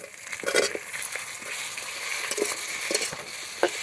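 Potatoes frying together with onions in a pan, a steady close sizzle broken by repeated scraping and stirring knocks of a spatula throughout.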